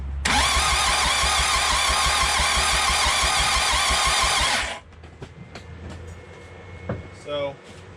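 A Mitsubishi 4D55 turbo diesel, swapped into a Montero/Dodge Raider, cranks over loudly with a rapid, even chugging of the starter for about four seconds without catching, then cuts off, leaving quiet shop noises.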